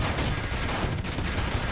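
A Gatling cannon fires continuously in the space-building game Space Engineers at small ship blocks, a dense, unbroken rattle of rapid shots filling the short stretch.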